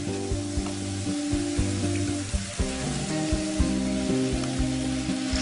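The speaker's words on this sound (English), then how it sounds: "I'm just letting these juices boil down a little bit more around" Pan juices with lemon and olives bubble and sizzle steadily as they reduce, a close, continuous crackle with small pops throughout and no talking.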